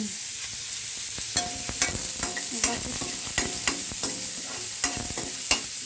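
Meat sizzles in a pan with onions being sautéed for a mung bean dish, under a steady hiss of frying and repeated sharp scrapes and clacks of a utensil stirring at an uneven rhythm.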